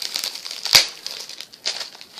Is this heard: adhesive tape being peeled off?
yes